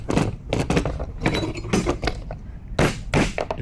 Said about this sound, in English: Grab your flywheel hammer.